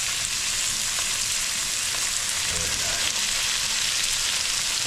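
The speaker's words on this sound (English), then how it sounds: "Then we're going to put our beef, cook our sliced up ribeye in there." Sliced ribeye steak frying with onions on a hot griddle for Philly cheesesteaks, a steady, close, dense sizzle that holds evenly throughout with no voices.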